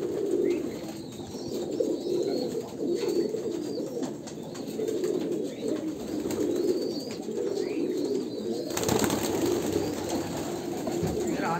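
Two young Kalanka pigeons of an Andhra pure bloodline coo in a steady low murmur, close and continuous, with faint chirps and a rustle near the end.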